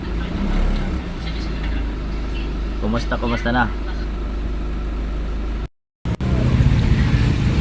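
Steady road traffic rumbles near a school at student dismissal time, with engines and car noise running continuously, a brief dropout, and people talking over it.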